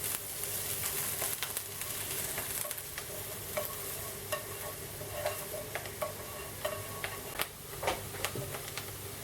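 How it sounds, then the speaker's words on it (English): Onion browns in a pan for Texan chili, sizzling and frying steadily up close. Scattered clicks and scrapes of stirring cut in repeatedly over the constant hiss. "browning the onion"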